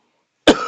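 A single short cough from a man, sharp and close, after a moment of silence.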